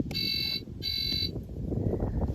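A toy Barbie RV camper gives two short bursts of high electronic beeping, each about half a second, over a low rumbling background, then the beeps stop and only the rumble continues.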